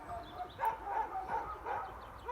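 Dogs bark and yip in a rapid, fairly distant series of about five bursts, moderately loud against faint background noise, heard on a visit to feed them.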